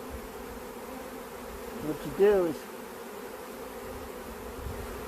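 Honey bees buzzing steadily around open hive frames, a dense close drone with one louder bee passing near, while someone speaks briefly.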